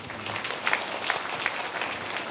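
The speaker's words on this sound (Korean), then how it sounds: "여러분 박수 한번 쳐주시기 바랍니다." Audience applause after attendees are asked to stand at a Korean economics lecture event, a steady wash of many hands clapping at moderate level throughout, no voices on top.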